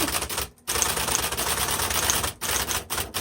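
A 1970s Electra 210 electric typewriter types in quick bursts of sharp, close key strikes, with a few short pauses between runs of clacking.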